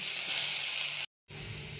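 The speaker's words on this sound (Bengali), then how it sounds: "ওই তেলে কুচানো পেঁয়াজটা দিয়ে দেবো দিয়ে পেঁয়াজটা ভেজে নেব" Chopped onion fries in oil with a soft, steady hiss that stops abruptly for a moment and then returns slightly quieter.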